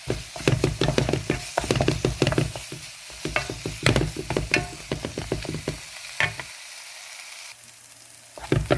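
Tomatoes and chillies sauté in hot oil in a pan for tomato rice, a close sizzle broken by repeated scraping and knocking stirring strokes, then a quieter stretch of frying near the end.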